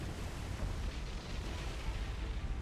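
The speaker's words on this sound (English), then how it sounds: "we had our magazine explosion, so she is going to go down" Ship magazine explosion in the War on the Sea naval game, a dense rumbling roar of blast and debris holding steady and fairly quiet throughout, with no talking.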